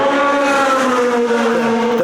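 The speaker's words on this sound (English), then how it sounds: "the engine sounds better and the performance is high" A Ferrari engine in a race car revs hard, a loud sustained high-pitched wail whose pitch holds and then sweeps slightly as the car accelerates, close and alone without talk.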